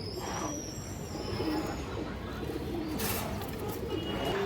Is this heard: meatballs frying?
no